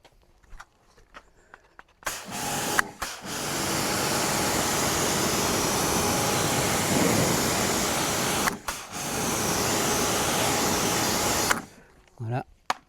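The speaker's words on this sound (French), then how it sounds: "je vais passer juste un coup de Karcher juste pour humidifier" A Kärcher pressure washer sprays water across a coffee table made from a Michelin tyre, giving a loud, steady hissing jet that runs near-continuously for about nine seconds with two brief pauses.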